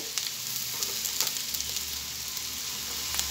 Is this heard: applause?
no